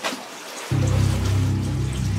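A bathroom sink tap runs near a toilet, silent for a moment and then suddenly gushing into a steady, close flow that keeps going to the end.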